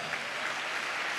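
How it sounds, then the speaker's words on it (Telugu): A church congregation claps steadily in praise during a New Year service, a brief, even burst of many hands. "నమ్మిన బిడ్డలు చప్పట్లు కొడుతూ స్తోత్రాలు చెప్దాం"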